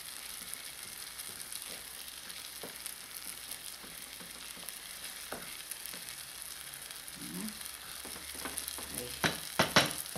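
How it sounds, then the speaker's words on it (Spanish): Beef searing in a pot for locro, a steady low sizzle with scattered stirring clicks and scrapes that grow louder and sharper near the end, with no voices. "Dejamos un ratito a que se selle antes de agregarle líquido."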